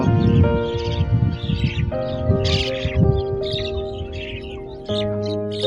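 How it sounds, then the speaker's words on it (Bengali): Birds call in the rainy-season countryside, mixing short chirps with crow-like caws over a low, continuous background hum. "পাখির কিচিরমিচির শব্দ।"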